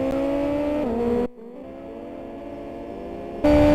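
A race car lapping the Kent AutoPrix circuit in a MiniFBM 2012 round, engine tone holding a steady drone, dipping as it changes gear, then surging loud again near the end.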